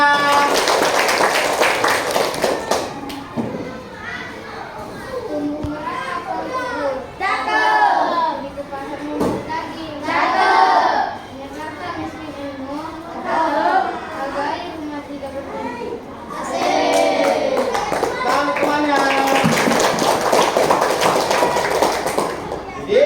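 Fifth-grade schoolchildren in a classroom clapping for a classmate, bursts of loud, scattered applause at the start and end with children's chatter and an adult voice talking in between.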